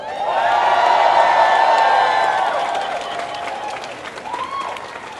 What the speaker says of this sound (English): Please help me welcome Jay Malone.